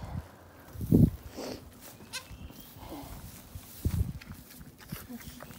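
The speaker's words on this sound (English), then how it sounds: "It's hard to believe they're two billy goats." Newborn Saanen billy goat kids bleat in a few short, close cries, with soft shuffling and rustling between them.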